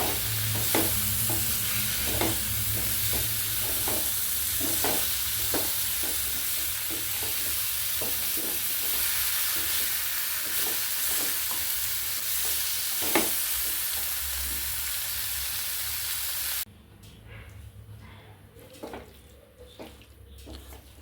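Masala being stirred as it fries in coconut oil, with a steady close sizzle under a rhythm of repeated spoon scrapes against the pan, then a sudden cut to quieter frying near the end.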